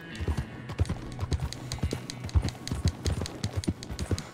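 Rapid, rhythmic hoofbeats of a galloping horse in the video game Red Dead Redemption 2, steady and close, with a faint background hum.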